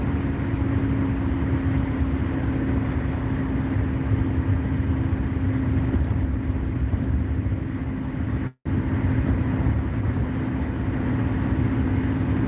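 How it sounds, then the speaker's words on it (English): A car's engine and road noise drone steadily from inside the cabin while driving in Jersey, a loud, even rumble with a steady hum and one brief dropout, with no talk. "We can listen to the car."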